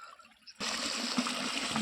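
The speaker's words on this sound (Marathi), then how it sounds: "शेतातनं पाटातनं पाणी पाणी वाहतं, असं पाणी द्यायला चालू आहे ज्वारीला." Borewell water rushes steadily through a field irrigation channel onto a sorghum crop after a sudden start, a continuous broad gushing flow that stays loud and even to the end.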